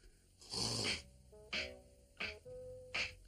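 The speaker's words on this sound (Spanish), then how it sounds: "Está roncando otra vez." A cartoon character snores in a Spanish-dubbed animated series: one long rasping inhale, then several shorter snorts with whistling tones, each separated by brief quiet pauses.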